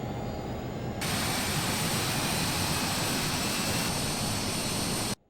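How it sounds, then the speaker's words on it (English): The left jet engine of a Learjet 35A in a Flysimware flight simulator spools up, a steady broadband whine and roar that jumps in loudness after a second and holds until a sudden cutoff. "And we'll start the left engine."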